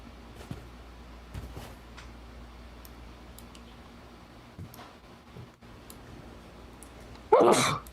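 A single sharp sneeze bursts out loud and close near the end, after a long stretch of quiet room tone with faint clicks and small movements.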